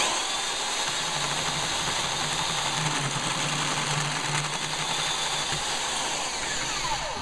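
A Harbor Freight pipe and tube notcher, driven by a drill and lubricated with WD-40, cuts through metal pipe with a steady, loud grinding whir that runs unbroken for the whole stretch.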